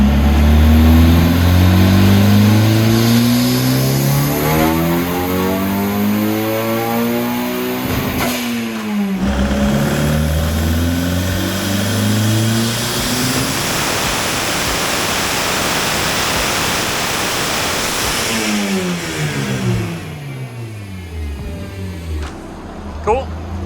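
Turbocharged high-compression 1.6-liter Mazda Miata engine revving hard on a dyno, loud and close, with repeated rising and falling pulls, a brief dip near the middle, and a final climb, steady roar throughout.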